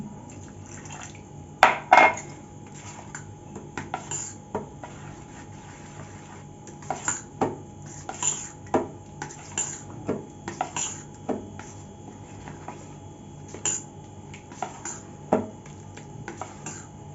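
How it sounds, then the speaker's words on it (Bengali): Batter for palm-fruit malpua being stirred with milk in a bowl, a spoon tapping and scraping the sides in irregular soft clinks, fairly near and quiet, with no talk. "আর একটু দুধ দিয়ে আমি এটাকে ভালো করে গুলিয়ে নিচ্ছি"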